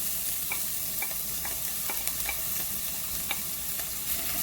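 Chopped scallion, garlic and thyme sauté in hot oil, producing a constant close sizzle with light spatters and scattered clicks of a spoon stirring the pan.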